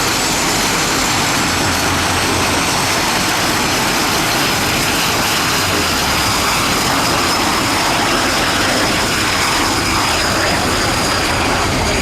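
RAF Red Arrows fast jets fly over an air show in Athens, producing a loud, continuous roaring jet engine rumble that persists throughout without a break.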